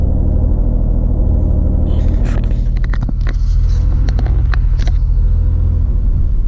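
A 1973 Citroën SM idles steadily while its hydraulic suspension lifts the rear, giving a constant low engine rumble with scattered light clicks and hissy ticks in the middle stretch.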